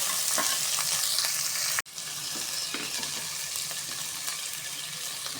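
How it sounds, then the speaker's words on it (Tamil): Chopped tomato sautéing in a hot pan for mint rice, a dense steady sizzle close up with a brief cut near the middle, then frying continues with light stirring. "இது கூடவே கட் பண்ணி வச்ச ஒரு தக்காளி பழத்தை சேர்த்துக்கலாம் நல்லா வதக்கி விட்டுக்கணும்"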